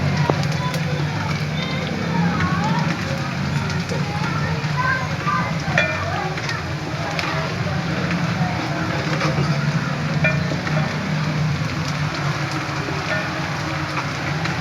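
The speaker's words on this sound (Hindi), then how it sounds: "चम्मच चलाते रहे ताकि आपकी प्याज एक सी ब्राउन हो" Onions and cumin sizzle in hot oil in a pan, a steady close frying hiss with occasional scrapes of a stirring spoon, while a voice talks over it for aloo gobhi.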